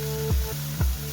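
Fish curry with chopped tomatoes, ginger garlic paste and marinated fish cooking in a pan, giving a steady soft sizzle with two brief stirring swishes.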